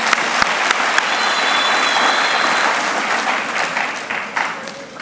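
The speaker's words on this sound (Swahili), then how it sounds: "Tumpigie makofi rais." Loud, sustained applause from a large crowd at a political speech in Tanzania held in honour of President Samia, filling five seconds with thick clapping and a faint, brief whistle partway through.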